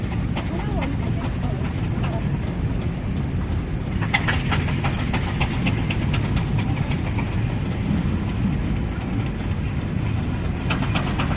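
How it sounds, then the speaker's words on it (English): A Fowler Tiger steam traction engine rumbles steadily past with rhythmic chuffing and clanking, while a voice talks over it throughout. "That is the Fowler Tiger tractor, little road engine"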